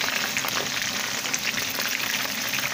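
Chicken wings and thighs fry in hot oil, a dense, continuous close sizzling and crackling with no talk.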